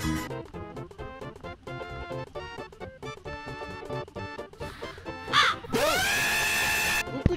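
Crow-like cawing from a bird in the video game Ark, set over continuous game music; a brief bright call near the end, followed by a loud sustained tone.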